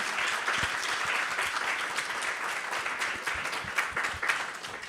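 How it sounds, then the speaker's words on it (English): An audience applauds steadily at a Krishna Katha gathering, a dense, continuous wash of many hands clapping that stays loud for the whole stretch. "So first I wanted to give a big round of applause."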